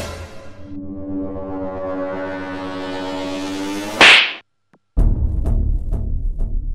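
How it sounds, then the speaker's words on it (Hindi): A hard slap in a comic school-teacher skit lands as one sharp, loud crack at the end of a long, rising horn-like tone. A brief silence follows, then a dense, rumbling noisy passage. "अच्छी जोर से चाटा पड़ा है"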